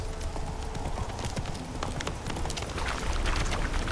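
Horse hooves clip-clop steadily on the ground in The Witcher 3 video game, a continuous rhythmic trot under faint ambient game sounds.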